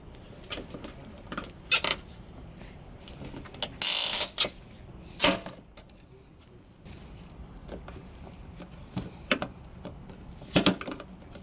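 A ratchet turning a 10mm socket on the headlight bolts of a GR86 or BRZ makes quick bursts of clicking, close and fairly quiet, with short pauses and a few sharper metallic snaps between runs.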